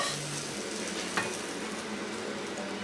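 Small toasted bread bits frying in a pan, a steady close sizzle with a brief stir-like scrape partway through, no voices.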